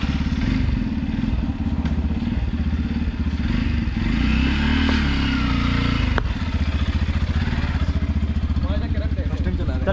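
Yamaha FZX motorcycle engine starting and idling, a loud close continuous thumping putter with slight revs and a few clunks, people talking faintly under it.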